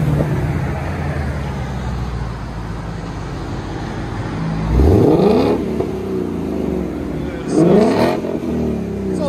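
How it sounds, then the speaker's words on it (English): A 2021 Ford Mustang Mach 1 V8 with factory mufflers and an H-pipe rumbles at idle, then revs sharply twice, each blip rising and falling loudly up close. "factory mufflers and H-pipe. We'll let you guys hear on beautiful Mustang Mach 1."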